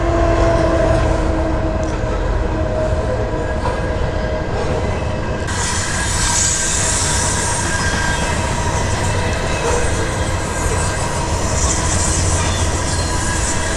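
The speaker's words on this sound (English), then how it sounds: "Wow, there goes the train." A train rumbles past loudly and continuously at Fort Langley, a steady roar of wheels and carriages with a brighter rushing hiss rising partway through.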